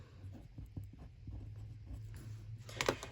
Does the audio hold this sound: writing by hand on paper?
yes